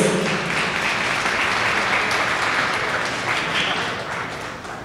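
An audience at a charter school parents' meet and greet applauds a speaker, a dense sustained round of clapping that fades slightly toward the end.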